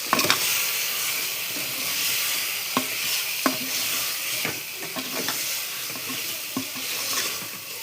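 Bagmari masala sautéing in hot oil in a pan, a steady close sizzle broken by sharp scraping clicks of a spoon stirring at irregular intervals, with no voices.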